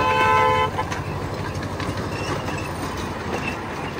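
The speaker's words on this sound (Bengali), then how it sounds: "এই যে টয় ট্রেন আসছে, কি সুন্দর টয় ট্রেন আসছে।" A toy train at a park passes close by, sounding a brief toot at the start before its steady rumbling clatter carries on loudly and evenly throughout.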